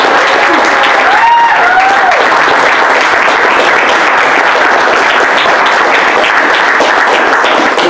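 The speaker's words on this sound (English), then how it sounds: "let's have a big round of applause for Matt." A loud, sustained wave of applause fills a large summit hall, thick, even and continuous from start to finish, with a faint voice briefly audible early on.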